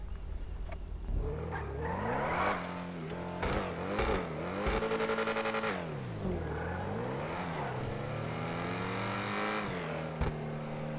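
Engine of a newly won car in a racing video game revving repeatedly, pitch sweeping up and down with rising and falling harmonics, loud and steady throughout with no talk.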